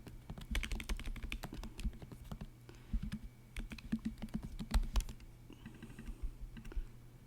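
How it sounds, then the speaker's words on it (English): Steady bursts of typing on a computer keyboard, close and clear, with irregular clusters of key clicks and short pauses, no talking. "And so now you can start typing."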